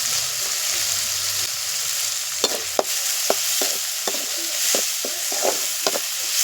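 Tomatoes with green chillies and salt sautéing in a pan, a soft steady sizzle under repeated spatula scrapes and stirring knocks, close by and without talk.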